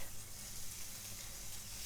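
Food sizzles in a pan with little oil, a steady close hiss and crackle with no one speaking.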